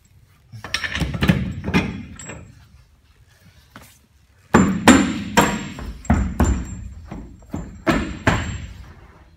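Repeated hammer blows drive bolts into a fitting liner, coming in two bursts of close, loud thuds and clanks with a brief pause between them.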